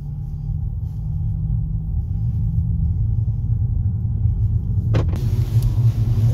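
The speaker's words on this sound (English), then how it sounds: "We're gonna start in E-mode because I never drove it in E-mode before." A 2021 Cupra Leon E-Hybrid moves off in electric E-mode with a low, steady interior rumble and a faint hum. A sharp click or clunk near the end is followed by slightly brighter road noise.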